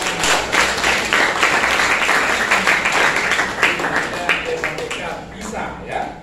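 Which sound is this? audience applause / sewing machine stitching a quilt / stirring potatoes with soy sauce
audience applause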